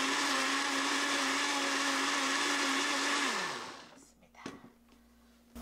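A loud, steady blender whirs at full speed grinding mugwort for rice cakes, then winds down and stops, leaving a few soft clatters.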